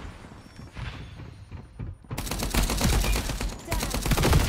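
Rapid automatic gunfire from the online shooter FragPunk, loud and dense, with mechanical clicks at the start before a sustained burst of shots that fills the rest of the clip.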